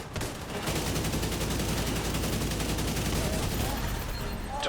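Hostile artillery turret in a video game firing a rapid, continuous barrage of gunshot-like blasts, loud and dense for the whole stretch, with a faint voice briefly underneath.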